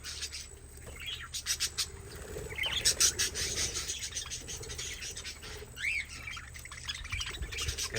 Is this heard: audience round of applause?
no